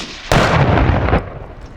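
A Rhodesian FN FAL R-1 rifle fires a single loud, close shot that cuts in sharply and rings out for about a second before fading into a quieter tail.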